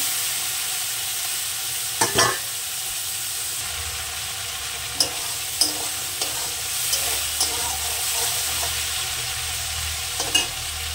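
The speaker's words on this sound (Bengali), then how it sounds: "চিংড়ি মাছটা আমি খুব কড়া করে ভাজবো না, নরম করে একটু ভেজে নেব চিংড়ি মাছটা।" Shrimp fry gently in oil in a pan with a steady close hiss and sizzle, broken by a few sharp stirring clicks and taps, with no voices.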